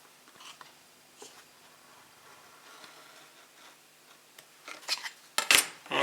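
A craft knife slices through a laser-cut card kit along its score lines, with faint scraping strokes that grow into sharper, louder cuts near the end.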